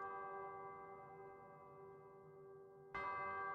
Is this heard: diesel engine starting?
no